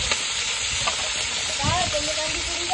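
Onion, tomato and green chili fry in a pan with a steady close sizzle and hiss, and a spoon scrapes and stirs through them partway through; no voices are heard.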